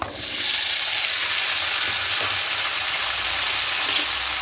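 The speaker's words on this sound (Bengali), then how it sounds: "আলুটাকে ভালো করে একটু ভেজে নেব" Potato pieces frying with red chili in hot oil, a loud, steady sizzling hiss that flares up at the start and holds evenly throughout, with no speech.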